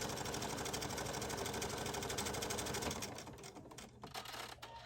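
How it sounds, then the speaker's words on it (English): A sewing machine fitted with an automated buttonhole foot stitches a horizontal buttonhole across the hemmed edge of a Hawaiian shirt pocket, a steady rapid close-up chatter that eases and turns more uneven toward the end. "Here I'm using an automated buttonhole foot to make a pocket in a horizontal direction on the hemmed area of the pocket."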